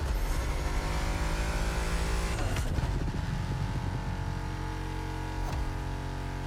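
Ford GT engine in The Crew Motorfest racing game, a steady loud drone at high revs with a brief dip and shift around the middle and a later blip, continuous throughout with no talk.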